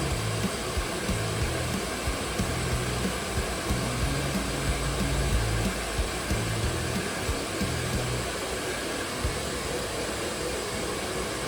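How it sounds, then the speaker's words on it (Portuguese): A steady, continuous blowing roar of a hair dryer on its cool setting, drying paint on a 3D-printed piece, runs unbroken throughout, fairly loud with a broad airy hiss and low motor hum. "agora aqui eu venho com o secador de cabelo"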